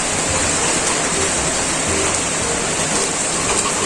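Heavy rain falls outside a home in Japan, a steady, loud, even hiss of water with no pauses and no voices.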